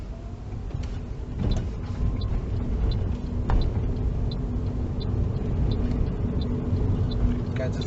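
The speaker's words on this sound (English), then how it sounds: "Tire and tarmac." Car tyres rolling steadily on tarmac, heard from inside the car as a constant low road rumble through a Leeds drive, with faint rattles and voices talking underneath.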